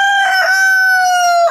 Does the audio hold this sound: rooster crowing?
yes